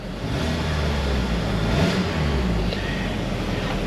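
Mercedes C250 engine running after repair, a steady loud idle rumble that swells into a brief rev and settles back, heard close with no voices.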